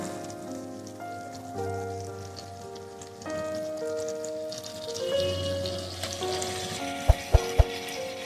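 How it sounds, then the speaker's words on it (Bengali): Marinated mutton frying with spice masala in a pan for mutton curry, giving a soft, steady sizzle with occasional stirring and a few sharp clacks near the end. "এবার এখানে আমি মাটনগুলোকে মশলার সাথে একসাথে ভালোভাবে নাড়াচাড়া করে কষিয়ে নেব।"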